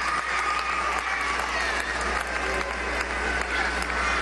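Steady applause from a crowd at a women's assembly in the Poliedro de Caracas, continuous and fairly loud throughout, with dense clapping filling the whole stretch.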